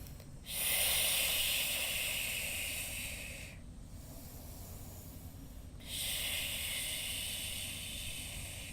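Slow, deep breaths drawn during an outdoor backyard yoga flow, each long airy inhale and exhale hissing close to the ear, with a pause between breaths and no talking.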